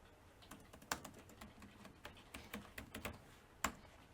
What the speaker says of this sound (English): we're going to have to type in a username and a password